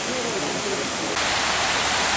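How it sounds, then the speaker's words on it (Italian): Fountain water splashes steadily in St. Petersburg near the Baltic shore, a loud continuous rushing hiss that brightens and grows slightly louder partway through. "La fontana dall'altra parte."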